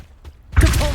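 A summoning spell cast in Hogwarts Legacy: a quiet lead-in with faint thumps, then a sudden loud whooshing burst that sustains to the end.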